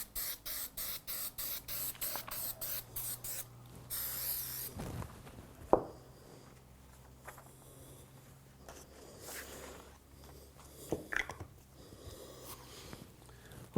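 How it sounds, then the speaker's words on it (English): Spray adhesive hisses onto paper chipboard for marquetry work in a series of quick, close sharp bursts, followed by one longer continuous spray, with a few soft handling knocks afterwards. "I need to affix it with spray adhesive"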